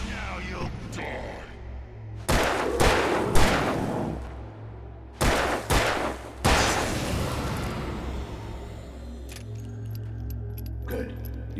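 Gunfire in Alan Wake Remastered: a handful of loud, close shots in uneven bursts, some spaced apart and some in quick pairs, each with a short ringing tail, over a low droning background.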